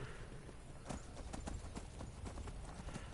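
In the video game Skyrim, a horse's hooves clop steadily at the Riften stables in a faint, even rhythm, with no talking over it.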